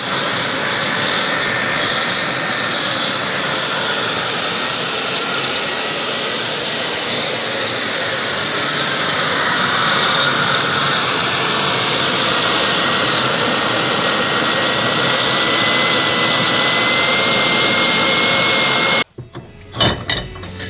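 A homemade propane-fuelled jet engine roars continuously with a loud, steady broadband rush for nearly twenty seconds, then cuts off abruptly, leaving a few clunks.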